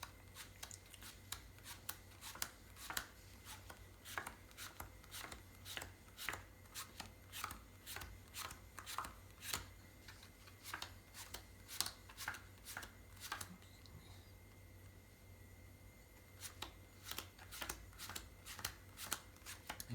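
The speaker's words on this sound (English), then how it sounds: "I'll deal 6 rows of 6 cards" Playing cards dealt one by one into six rows of six for a card trick, giving a steady run of crisp, close snaps and slaps at an even pace, with a short pause before the dealing resumes.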